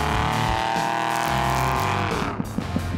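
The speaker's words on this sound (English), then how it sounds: "Over 150 trophy trucks, buggies, and UTVs line up to try their luck against the brutal Nevada desert." Trophy trucks, buggies and UTVs race in the Nevada desert at the Silver State 300, a loud sustained engine roar that drops off, followed by a few sharp knocks.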